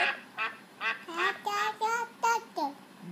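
A young child imitates a duck at bedtime, voicing a run of about eight nasal quacks in an uneven rhythm, close and clear, each call short and separate.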